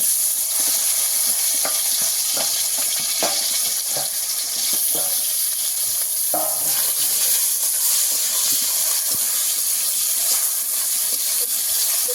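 Taro stolons coated in salt and turmeric fry loudly in hot oil, giving off a continuous bright sizzle broken by scattered scraping and tapping as they are stirred in the pan.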